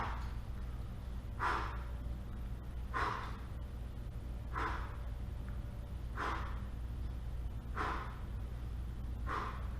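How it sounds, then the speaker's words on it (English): Mouth exhales during a hip-opening yoga series, five or six breathy whooshes at an even rhythm roughly every second and a half, close and moderately loud over a low steady room hum, with no talking. "I'm really breathing out through the mouth, I want you to do the same thing, audible exhales."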